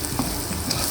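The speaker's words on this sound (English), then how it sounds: "give it a nice stir" A spoon stirs spiced basmati rice in a hot pan for piri piri rice, a brief scrape over a steady, close, dense sizzle.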